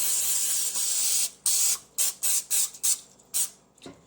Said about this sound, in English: I'm going to grease my cookie sheet so that the cookies don't stick or bake onto the pan